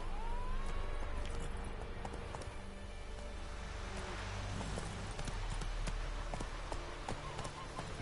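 Hooves of Roach, Geralt's horse in The Witcher 3, clip-clopping in a steady trotting rhythm, the close, crisp hoofbeats running throughout over ambient game sound and a faint tonal background.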